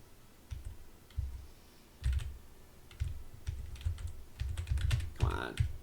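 Computer keyboard typing during a Pokemon game session, a close run of quick clacking keystrokes in irregular bursts, with a short vocal sound near the end.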